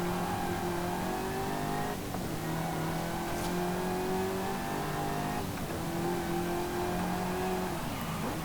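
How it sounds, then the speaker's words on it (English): In a racing video game, a 2022 Cadillac CT5-V Blackwing's high supercharger whine rises steadily over its revving engine, heard from the interior, dropping back twice as gears shift, then climbing again. "I love a supercharger whine"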